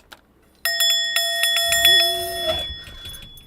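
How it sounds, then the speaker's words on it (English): A hand bell rung several times in quick succession, bright and close, its ringing tone sustaining and fading, with a low murmur underneath toward the end. "I need to have a bell here so I can just ring the bell"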